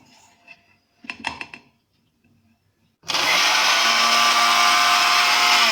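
A mixer grinder jar grinds roasted, cooled black cumin seeds into powder, starting abruptly after a few faint clinks and running as a loud, steady, high-pitched whirring roar to the end, with no talking.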